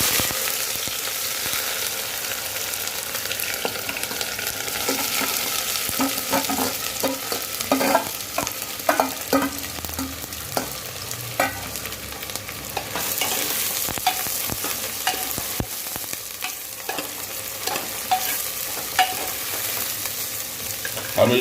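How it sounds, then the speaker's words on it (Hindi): Onions frying in hot oil for a beef kidney masala, a steady sizzle with frequent sharp crackles and stirring scrapes, fairly close and ongoing for about twenty seconds without speech. "तेल हमारा गर्म हो गया है, अब हम इसमें प्याज डाल रहे हैं।"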